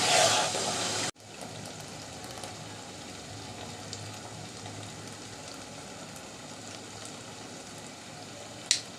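Olive pickle (jolpai achar) frying in a pan of oil as it is stirred: a steady, soft sizzle runs throughout after a brief louder burst at the start, with an occasional light clink of the spoon near the end.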